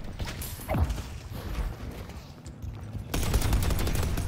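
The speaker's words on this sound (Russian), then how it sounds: "Нормально турелька лупит." A turret in the game Deadlock fires rapid bursts of shots, loud and close, with a brief lull before a dense, sustained volley resumes.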